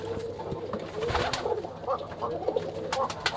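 A pair of yellow-eyed ghonobazi pigeons at a Rajshahi pigeon farm coo softly amid a busy, noisy background of other birds and clatter.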